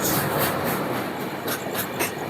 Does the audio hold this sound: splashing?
no